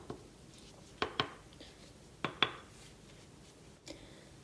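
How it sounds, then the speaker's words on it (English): Containers of mica powder shaken and tapped: two pairs of sharp plastic taps about a second apart, then a softer single knock, with faint rattling shuffles between them. "shaking them all up together now, giving them a good tap"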